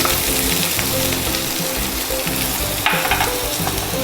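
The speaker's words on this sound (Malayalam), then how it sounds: "പാൻ നല്ല ചൂടായിട്ടുണ്ട്. അതിനകത്തേക്ക് ഞാൻ അരിഞ്ഞ് വെച്ചിരിക്കുന്ന 1 ഓണിയൻ" Chopped onion sautés in hot coconut oil in a heated pan for a breakfast omelette. A loud, continuous crackling sizzle runs throughout, with a brief brighter hiss near the middle.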